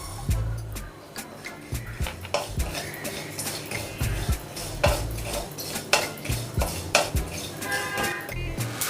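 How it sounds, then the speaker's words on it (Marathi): Sesame and poppy seeds dry-roasting in a pan for fried poha chivda, with repeated close metallic scraping and clinking of a spoon against the pan in an irregular stirring rhythm, loud and continuous, no talk. "सर्वात आधी तीळ आणि खसखस सेपरेट भाजून घ्यायची आहे।"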